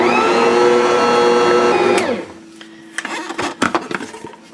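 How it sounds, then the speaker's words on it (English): A stand mixer churns powdered sugar into Easter candy dough with a loud, steady motor whine that winds down after about two seconds, followed by clinks and knocks as the bowl is handled. "And then we're going to mix it some more."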